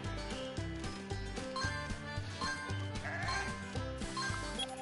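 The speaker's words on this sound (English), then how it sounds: "That animal's name is a sheep." Sheep bleating in the Paw Patrol: On A Roll video game, brief and high over loud, bouncy game music that runs throughout without pause.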